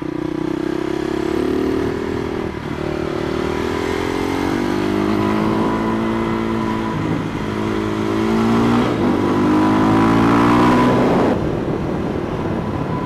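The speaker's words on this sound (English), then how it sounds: "Enjoying my Supermoto." A supermoto motorcycle ridden on a road in Taiwan, its engine loud and close, revving up through the gears in rising pitch sweeps with short dips at each shift.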